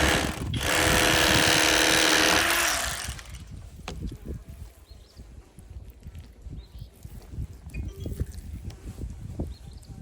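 An electric knife filleting catfish gives a loud, close motor buzz for about three seconds, then cuts out, leaving quieter tapping and handling noises on the fish.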